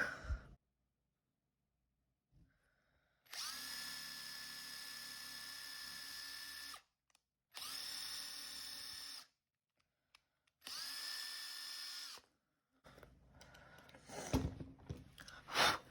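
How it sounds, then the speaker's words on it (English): A power drill drilling a hole for binder rings whirs in three sustained bursts of several seconds each, separated by short silences, with some handling clatter at the end. "So I'm going to drill the second hole"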